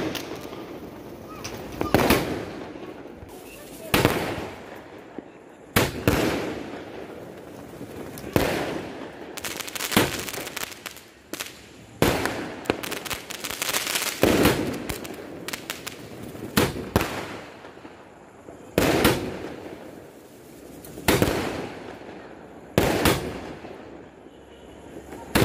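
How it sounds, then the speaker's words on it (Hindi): Diwali sky-shot fireworks burst one after another in a regular series of sharp cracking booms, each followed by a brief crackling tail, with occasional quieter voices between them. "तो ये इस तरीके से शॉट्स निकले हैं, और ऊपर जाके इसका जो है स्काई में इस तरीके की डिज़ाइन दिख"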